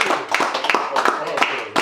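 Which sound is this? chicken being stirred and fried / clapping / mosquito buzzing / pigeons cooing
clapping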